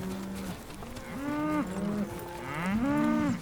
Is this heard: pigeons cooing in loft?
no